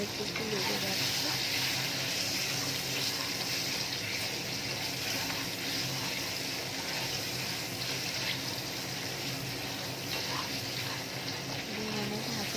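Eggs frying in not-quite-hot-enough oil in a pan, giving a dense, continuous sizzle and crackle that holds steady and loud throughout, with no pause and no talk.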